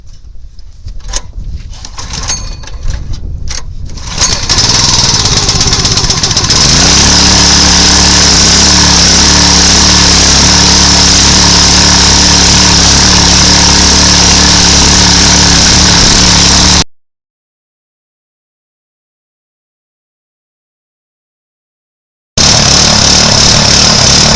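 Gasoline engine on an old log splitter with a bad carburetor, a few pull attempts before it catches and runs loud and rough with a wavering, surging roar, then cuts out briefly before resuming.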